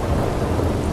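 Thunderstorm in the video game Red Dead Redemption 2, a dense steady wash of rain and rolling thunder rumble filling a brief moment, loud and close with no voices.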